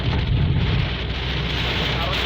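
Heavy rain pours down during a storm in Jeddah, a dense, steady wash of noise drumming close by without pause for the whole short stretch, with strong low rumble mixed in.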